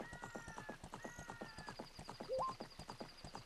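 Horse hooves clip-clop in a steady, rapid rhythm in the video game The Legend of Zelda: Ocarina of Time, under tonal game music and effects.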